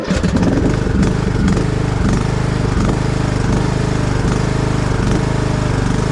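A lawn mower engine runs loud and close, its steady mechanical chugging surging unevenly as it first starts up and warms, continuous throughout with no voices.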